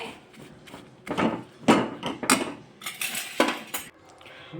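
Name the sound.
stirring white sesame seeds in pan for chikki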